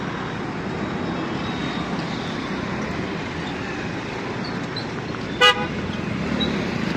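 Fast vehicles rush past on a busy road as a steady, loud traffic roar. A single short horn toot sounds near the end over the continuous rumble.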